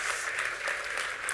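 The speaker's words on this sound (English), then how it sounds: "Applause, please, everybody." A brief burst of audience applause at a panel event, dense and even clapping that is moderately distant and lasts only a moment.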